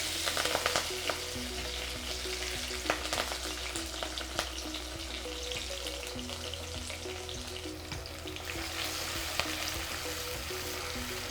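Crushed ingredients tipped into hot oil with popped mustard seeds for a Kerala jackfruit seed and green mango stir fry, giving a steady dense sizzle with occasional stirring clicks, close and continuous with no talk.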